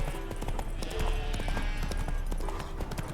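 Steady clip-clop of horse hooves in The Witcher 3: Hearts of Stone plays in a continuous even rhythm under a dense ambient game soundscape, with no one speaking.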